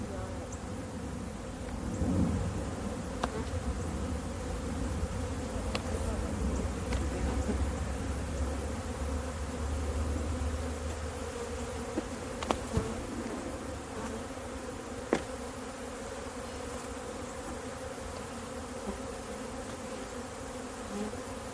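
A swarm of tree bees buzzes steadily and close throughout while being relocated to a new hive, with occasional clicks and knocks from frame handling and faint low rumbling underneath.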